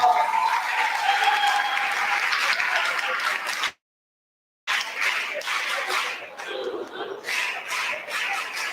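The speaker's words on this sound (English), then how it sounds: "Please, can you give her another round of applause?" Audience applause at a welcome event honoring a longtime classmate and friend, steady clapping with background chatter, a sudden gap of silence midway, then the clapping resumes slightly softer.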